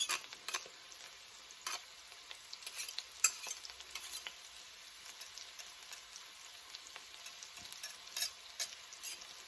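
Garlic scraped with a utensil into a pot for wild rice corn chowder, making quiet, intermittent scraping and stirring clicks over a faint sizzle, with no talking.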